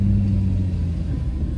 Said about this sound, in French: on monte une petite côte, donc on entend le moteur qui force un petit peu.